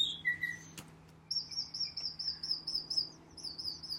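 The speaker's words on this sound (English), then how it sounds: "You hear those birds out there?" Backyard birds chirp and tweet outdoors in bright, high, repeated bursts. One longer trilling phrase runs over a low steady background hum, and nobody speaks.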